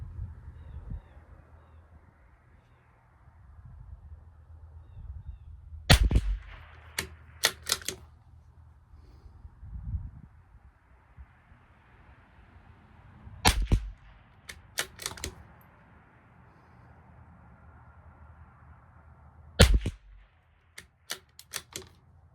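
A Tikka T1x .22 rifle fires Norma Match ammunition at targets 50 yards out, producing sharp, fairly quiet cracks in small spaced-out clusters separated by stretches of low outdoor background.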